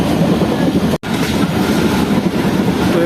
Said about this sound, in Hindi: तो ये बिन कासिम रेलवे स्टेशन को स्किप कर रही है इस वक्त ट्रेन